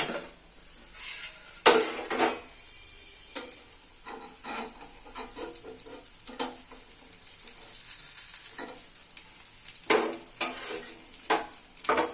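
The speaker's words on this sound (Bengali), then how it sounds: "থালা দিয়ে পাঁচ মিনিটের জন্য ঢাকা দিয়ে রেখে দেব ঢাকনাটা তুলে নেব" A metal plate used as a lid is lifted off a frying pan holding a potato, carrot and egg dish, giving several sharp clanks and scrapes over a soft steady sizzle.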